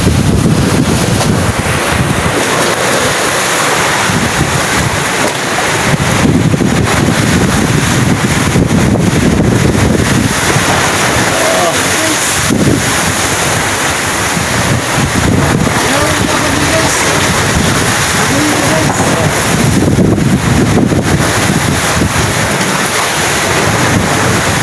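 Strong typhoon wind gusting at 60 to 70 near the storm's eye, roaring over the microphone with crashing waves, loud and continuous with buffeting surges.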